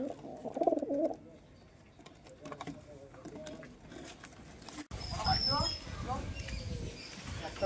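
Desi Giribaj pigeons coo softly in a loft, low rolling calls heard near the start amid rustling and wing flutters, with someone talking over them.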